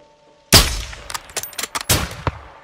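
Gunfire in Call of Duty Modern Warfare 2: a sharp, loud shot cracks out, then a scatter of quieter distant shots, and a second heavy report rings out before more scattered pops.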